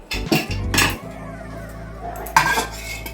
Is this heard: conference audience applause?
no